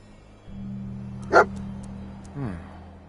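In the video game Fallout 4, a dog gives a single short bark over a low steady hum, followed a moment later by a softer whimper-like sound.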